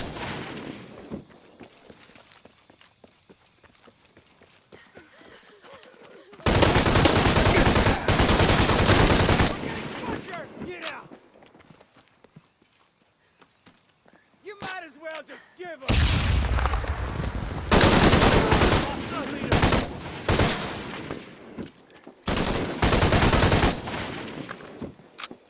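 Soldiers firing guns in Shadow of the Tomb Raider: long, loud bursts of rapid automatic gunfire and booming shots, separated by quieter stretches of footsteps and ambient game sound.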